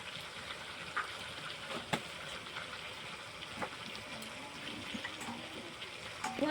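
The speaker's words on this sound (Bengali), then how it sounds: "জলটা আমি দিয়ে দেবো।" Water is poured into a cooking pot of spicy chicken kosha with fried potatoes, a quiet, steady gushing splash that runs the whole time, fairly faint, with no clear talking.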